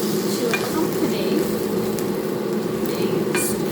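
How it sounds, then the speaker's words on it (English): Garlic and spring onions frying in a wok, a loud continuous sizzle with occasional scraping taps from stirring. "just frying off the garlic and the spring onions, stirring all the time so they're not stiff"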